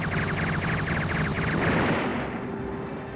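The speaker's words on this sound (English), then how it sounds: "Vulcan cannon." A Vulcan cannon firing in the PS2 game Battle Engine Aquila: rapid, evenly spaced bursts of mechanical shots over a rumbling battle backdrop, fading out after about two seconds.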